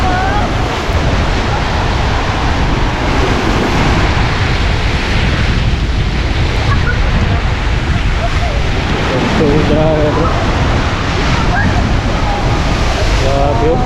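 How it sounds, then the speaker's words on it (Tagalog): Steady roar of surf with waves washing in continuously, heavy wind rumble on the microphone, and faint voices in the background. "ang lalakas ng mga alon o ang lakas ng mga hampas ng alon."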